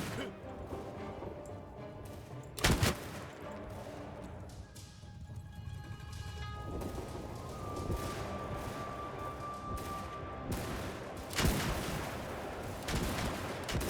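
Massed gun volleys in the samurai-era battle game Shokuho crack out as a few sharp, distant-sounding bursts over a rumbling battlefield din, with a strong volley early and another near the end.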